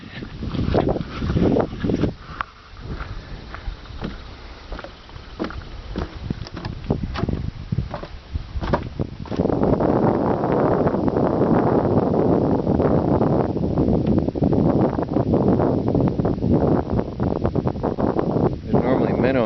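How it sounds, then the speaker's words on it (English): Gusty outdoor wind buffets a camera microphone on a road trip in Michigan, the rumble swelling into a loud, continuous roar in the second half. "It's very windy out here, so forgive me if it's bad"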